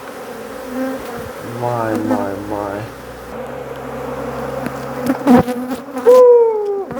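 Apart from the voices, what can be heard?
honeybees buzzing from a beehive in a kitchen cabinet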